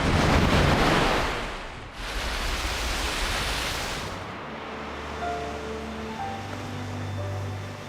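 Rough sea waves surge and crash in a loud, continuous roar with wind buffeting, the wash easing after a few seconds into a steadier rumble with faint low tones.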